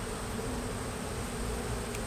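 Honeybees hum in a steady, continuous drone close by as a single brood box is opened for inspection, the buzz unbroken and even throughout with no voices.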